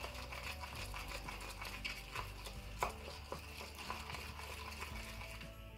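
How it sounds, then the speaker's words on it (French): A spoon stirs slime made from glue and dish soap, giving soft, repeated wet scraping and sticky squelching strokes at close range, faint and steady with small clicks against the bowl and no talking. "Cette fois-ci je vais mélanger avec ma cuillère"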